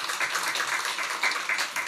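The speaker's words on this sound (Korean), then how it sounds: "다시 한번 성가대 경애 박수하겠습니다." A church congregation applauds the choir after its hymn at a Sunday worship service, a steady, dense wash of many hands clapping together for a couple of seconds with no voices over it.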